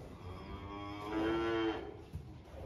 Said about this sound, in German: Hier ist das Zuhause der 30 Milchkühe von Familie Raschle